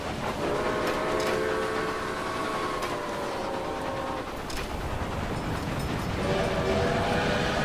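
Steam locomotives in the Railway Empire game, including a Duke, a Jenny Lind and a Firefly, rumble past in a continuous loud roar with sustained whistle tones and faint rail clatter.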